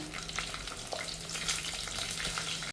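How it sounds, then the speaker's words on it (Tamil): Chopped small onions (shallots) frying in a hot pan of oil for a seabass fish curry, a steady close crackling sizzle throughout with occasional stirring scrapes. "நான் 4-5 சின்ன வெங்காயம் அறுத்து வச்சுருக்கிறேன், அது போட்டுக்கிறேன்."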